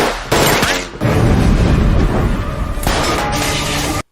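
Loud, dense bursts of film gunfire crackle and boom almost continuously, with rapid shots overlapping in a chaotic exchange that cuts off abruptly at the end.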